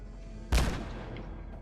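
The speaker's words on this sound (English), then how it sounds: "Let's do a grenade up that way." A single grenade blast in Fallout 4 booms out sharply, then rolls off into a decaying rumble over a steady low game ambience.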